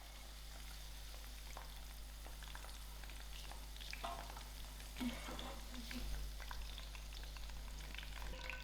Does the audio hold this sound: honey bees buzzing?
no